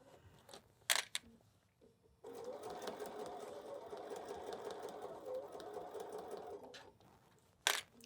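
A sewing machine runs in a continuous burst of rapid stitching through thick pillow wrap layers with rickrack and binding, framed by a few short clicks and handling knocks before and after, fairly quiet and close.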